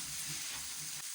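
Chili powder is stirred into beef frying in a pan, giving a steady close sizzle with soft scraping as it is mixed, and no talk.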